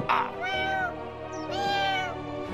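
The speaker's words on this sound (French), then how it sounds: "le pauvre chaton a tellement peur qu'il peut pas s'empêcher de pleurer" A frightened cartoon kitten meows twice, drawn-out wavering cries close and clear with a tone underneath, each about half a second long.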